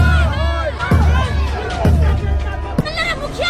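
A large, noisy crowd fills the scene with loud babble and shouting, while someone speaks prominently over the hubbub in short bursts.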